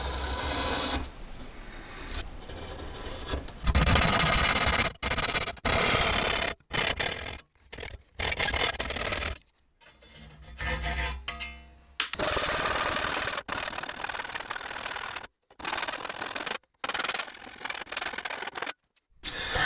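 Repeated rasping strokes of a hand file on metal motorcycle parts, filing a cutaway for brake stay clearance, rhythmic and close, in several runs broken by short pauses.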